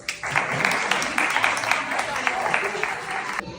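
Guests at a child's birthday gathering clap together for a few seconds, a lively burst of applause that starts quickly and stops short, with some voices mixed in.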